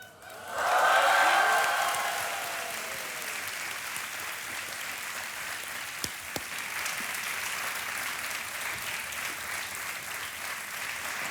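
A game show studio audience bursts into loud applause to welcome a contestant, a dense swell of clapping that peaks early and then settles into steady sustained clapping.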